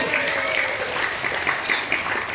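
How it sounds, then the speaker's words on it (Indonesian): A church congregation at an Ascension Day service claps together, a lively rhythmic patter of many hands with a faint voice lingering beneath, brief and fairly close. "Tepuk tangan buat Tuhan Yesus."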